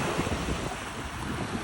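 Ocean waves on a beach, heard as a steady roar of surf mixed with strong wind buffeting the microphone, with no voices.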